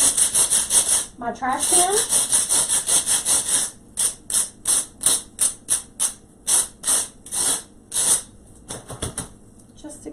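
Floral foam scraped down over a trash can while making a farmhouse hydrangea centerpiece, giving repeated dry rasping strokes in a steady rhythm, close and fairly loud, with a brief spoken remark early on.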